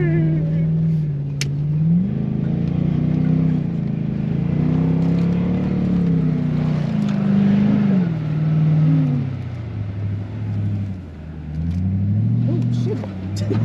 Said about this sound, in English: Just using the grunt of the engine.